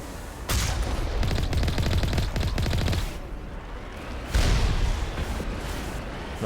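Turret gunfire in Mass Effect Legendary Edition: loud, rapid bursts of automatic fire in two volleys, with a short lull between them and booming impacts mixed in.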